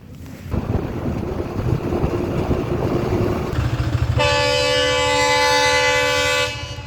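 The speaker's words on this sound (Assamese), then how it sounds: "এয়া হৈছে ট্ৰেইন আহি আছে" A train approaches along a railway line near Dehati, first as a broad rumbling roar with wind buffeting, then a loud sustained horn blast rings out over the rolling clatter until it suddenly drops away.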